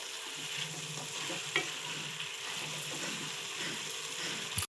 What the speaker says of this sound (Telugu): ఇప్పుడు అల్లము, పచ్చిమిర్చి, జీలకర్ర పేస్ట్ వేసుకోవాలండి. వేసుకుని బాగా కలుపుకుని